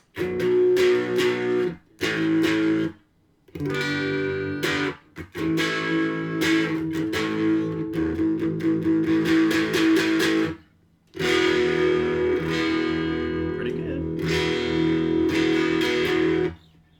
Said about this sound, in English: Let's bring up the distortion.